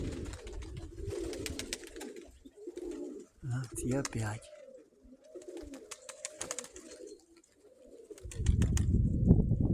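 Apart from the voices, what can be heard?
pigeons cooing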